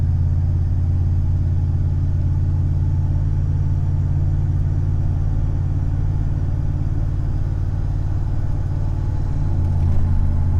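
A Ram 1500 with a 46RE transmission runs in a steady, low, rumbling drone as it moves through the gears, loud and continuous with no clear breaks.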